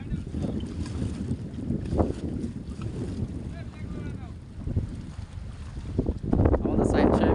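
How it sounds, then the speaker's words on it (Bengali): A trawler passes on a river with a low, rumbling engine drone beneath gusty wind buffeting the microphone, swelling louder toward the end. "এই যে একটা ট্রলার আসছে, ট্রলার।"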